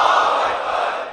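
A large gathered crowd at a religious majlis in an imambara in Lucknow roars back a slogan in unison, a single loud sustained collective shout lasting about a second.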